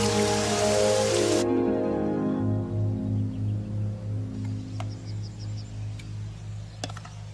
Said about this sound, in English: It's been a long drought and now it's raining.